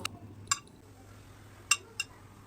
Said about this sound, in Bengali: তো চিকেন পিসগুলোকে তুলে নিয়ে একটা বড় সাইজের পাত্রে রাখবো